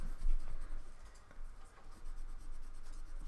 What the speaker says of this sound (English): I'm just going to rub the pencil line off.